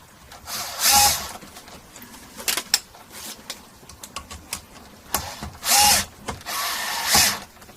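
A power screwdriver drives screws into a 1980 Kay K30 Les Paul copy guitar in three separate bursts, each a close buzzing whir, with small clicks and handling noises in between.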